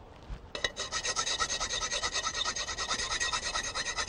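A conical rasp filing a groove in wood, with a rhythmic series of rough scraping strokes, close and steady, repeating roughly every quarter second.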